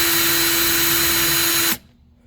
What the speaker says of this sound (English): Next step is to take off the two 7mm bolts.